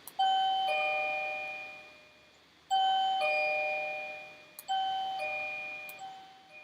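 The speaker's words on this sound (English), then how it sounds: "That would be the ding dong." Three separate ding-dong doorbell chimes ring out clearly, each a bright two-tone strike that fades slowly before the next one sounds. No voices are heard between them.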